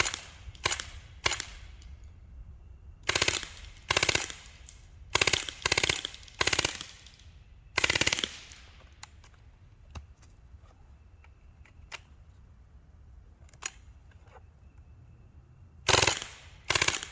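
Sharp, loud reports from an Umarex StrikeForce gun fired at targets, arriving singly and in quick clusters with quiet gaps between them, close and dry with faint clicks in between.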